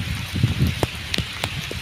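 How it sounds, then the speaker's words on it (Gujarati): Rain falls on a cotton farm field, with scattered drops pattering and spattering close by over a soft steady hiss in a short burst. "વરસાદ ચાલુ થઈ ગયો છે"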